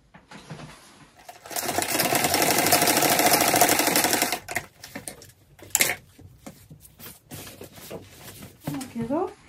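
A sewing machine stitches a folded seam on a sweater, running in a steady loud burst for about two seconds before stopping, followed by scattered handling clicks and brief talk.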